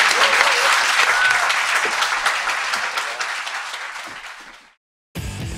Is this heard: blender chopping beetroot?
no